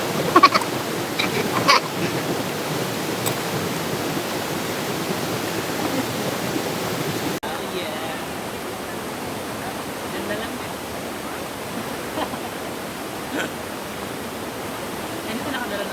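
A waterfall in Palawan pours as a steady broadband rush of falling water, close and continuous, dropping slightly in level midway, with faint voices now and then beneath it.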